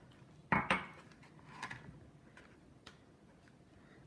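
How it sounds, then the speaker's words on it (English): Eggs being mixed into corn muffin batter in a bowl, a few sharp utensil clinks against the bowl early on followed by softer scattered taps and stirring. "And then I'm going to add the eggs one at a time, and then just kind of mix them up."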